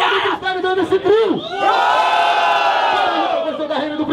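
A loud crowd cheers and roars at a freestyle rap battle in São Gonçalo, Brazil, with shouts and whoops swelling into a sustained, dense ovation that holds steady to the end.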